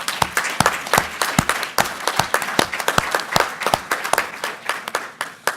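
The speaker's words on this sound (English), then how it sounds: "So I want to give also a warm applause to our sponsors." Audience at a patient conference closing session applauds the event sponsors, a dense, steady round of many hands clapping close by, sustained throughout with irregular sharp claps standing out.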